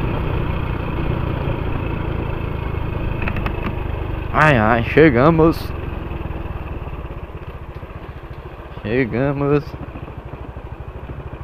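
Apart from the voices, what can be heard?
Honda Pop 110i motorcycle engine making a strange noise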